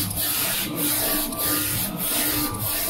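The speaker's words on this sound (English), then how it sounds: "Then we can see the color layer printing coming." A Focus Nebula 42F DTF printer printing its color layer: a continuous mechanical whir with the print head sweeping in regular passes about every half second, close and steady, with no talking.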